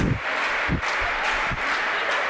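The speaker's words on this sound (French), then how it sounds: "Aussi pour voir le public qui applaudit aussi." A crowd applauds at a French national championship tennis doubles match, steady loud clapping throughout with a few heavier thumps near the mic.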